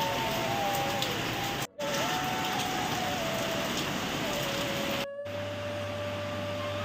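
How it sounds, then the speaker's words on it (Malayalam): Heavy monsoon rain pours down in a steady, dense hiss that fills the whole clip, loud and close, with a faint thin tone running underneath and two very brief breaks in the sound. "അതിന് ശേഷം വീണ്ടും പെരുമഴ പെരുമഴ പെരുമഴ."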